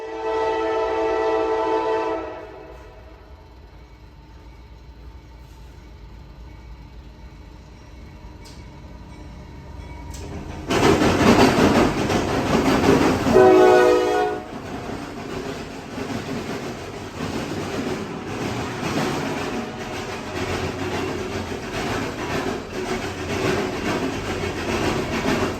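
A Norfolk Southern manifest freight train approaches and rumbles past on former Norfolk and Western track, a horn blaring early on, then a steady heavy roar of rolling cars continuing throughout.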